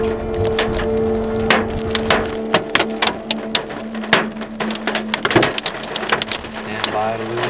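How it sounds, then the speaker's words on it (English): Hail pelting a vehicle during a tornado chase, with sharp, irregular cracks and thuds over a steady drumming roar of storm rain, close and loud throughout, along with a low continuous hum. "crazy hail"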